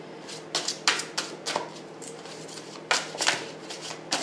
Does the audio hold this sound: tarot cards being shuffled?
yes